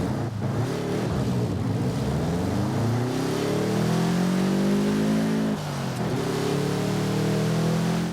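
A 1980s Subaru Brat GL in Forza Horizon 5 revs its engine, the pitch sweeping up and holding, dropping briefly, then climbing again in a continuous, close engine drone.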